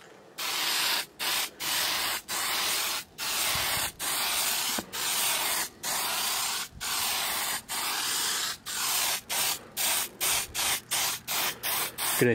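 Spray paint applied in thin coats to a background panel for a ball python enclosure, with a close, loud hiss in repeated bursts separated by short pauses, quickening toward the end.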